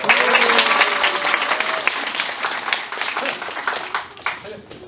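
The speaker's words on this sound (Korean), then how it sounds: "할머니 박수 한번 해" Loud, dense applause fills a tackling lesson session, continuous clapping from a group that stays strong before easing slightly near the end, with voices mixed in.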